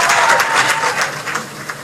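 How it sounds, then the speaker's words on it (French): A loud crowd claps hard and continuously, dense broadband applause at a Cameroon Television Awards 2024 ceremony, filling the whole stretch without pause. "Ensemble, on applaudit très très fort"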